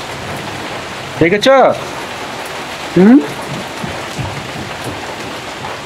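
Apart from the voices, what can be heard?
rain falling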